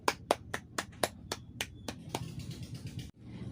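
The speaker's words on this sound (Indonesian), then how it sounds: "Tepuk tangan untuk kita semua." A classroom round of applause led by a teacher: a brief burst of crisp, evenly spaced hand claps that quickly blend into a denser patter before cutting off, fairly faint and with no talk.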